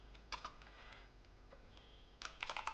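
Keys clatter on a computer keyboard while someone writes HTML form code, a few quiet clicks early on and then a quicker flurry of keystrokes near the end, heard alone without speech.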